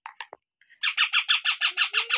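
Baby parrots squawk at hand-feeding time, a few short calls followed by a steady run of about nine loud, evenly spaced harsh squawks close by, with no talking.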